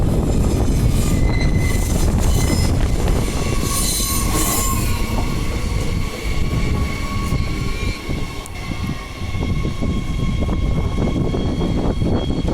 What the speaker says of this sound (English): Wow, the whole train fits on that crossover bit.